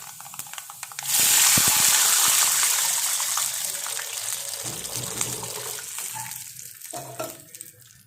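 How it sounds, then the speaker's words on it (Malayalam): Water is poured into a pan of fried onion and chickpeas, setting off a sudden loud gushing hiss that slowly fades into a bubbling simmer, with a few clanks of a utensil and no speech. "ഇതിലേക്ക് നമുക്ക് ആവശ്യത്തിന് വെള്ളം ഒഴിച്ച് കൊടുക്കും"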